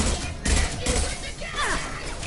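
Rapid bursts of gunfire from a PS4 video game, several loud cracking shots clustered over a couple of seconds, mixed with background game noise and some voice activity.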